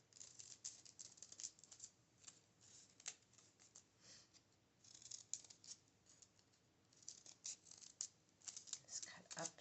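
Sharp scissors snipping through folded paper while cutting out a paper snowflake, a close series of irregular crisp cuts and rustles, with occasional faint talk.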